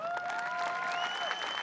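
A crowd at a 2021 high school graduation ceremony applauds steadily, a continuous wash of clapping with a few high whistles cutting through over the top.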